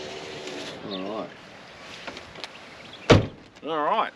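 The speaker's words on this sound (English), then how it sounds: "Alright, those two front doors work, Jess." A car front door slams shut with a single sharp thud. Pigeons coo nearby before and after the slam, and no voices are heard.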